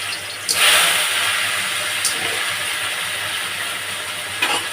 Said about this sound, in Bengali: এবার আমি মুগ ডালটা ভেজে নেব